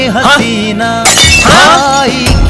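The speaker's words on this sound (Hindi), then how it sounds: "ये कांच अपने आप कैसे फूट गया?" Glass breaking on its own in a school, in an animated show: two loud crashing bursts of shattering ring out over loud tonal music or voices.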